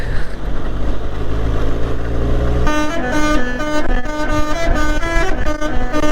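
A truck's musical horn on a road in Jaipur, Rajasthan, plays a tune of steady, stepping notes over rumbling engine and road noise, loud and close, after a few seconds of low traffic drone.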